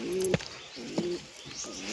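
Pigeons coo in two short bursts near a loft holding white pigeon chicks, quiet hiss between calls and no voices.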